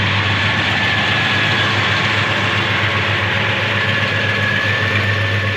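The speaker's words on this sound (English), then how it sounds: "Engine sounds good." A 1967 Chevelle Malibu idles steadily up close, a deep, even engine rumble with a constant low throb that holds unchanged for several seconds with no talk.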